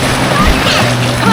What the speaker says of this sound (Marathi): हाय टाईड चालू आहे सध्या, त्याच्यामुळे एवढ्या मोठ्या लाटा येतो